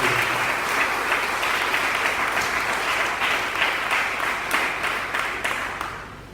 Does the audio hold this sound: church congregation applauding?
yes